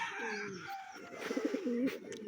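Bombay pigeons coo softly nearby, a few low rolling calls repeating over faint background chatter and rustling.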